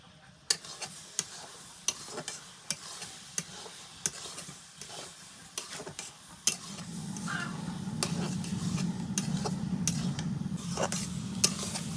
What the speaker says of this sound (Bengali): নাড়তে নাড়তে আচার শুকায় যাবে